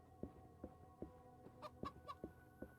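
Chickens cluck in a video game, a faint series of short, evenly spaced clucks about every half second, with a few higher squawking notes in the middle.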